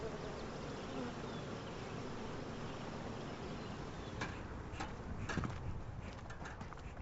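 Dense, continuous droning hum of honeybees swarming around hives on a wild blueberry farm, close and constant, with a few brief outdoor knocks near the end.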